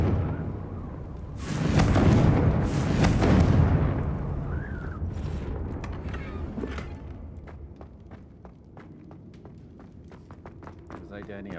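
A burst of fire exploding from the Confringo spell in Hogwarts Legacy, a loud whooshing blast in the first few seconds that fades into crackling, footsteps and scattered ticks, with a voice talking throughout.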